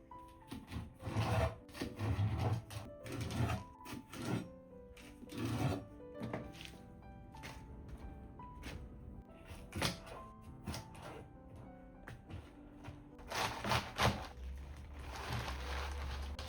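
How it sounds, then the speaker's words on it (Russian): A knife chops through chard stems on a cutting board in a series of quiet, irregular thunks and scraping cuts. "У мангольда обрезаем жесткую часть"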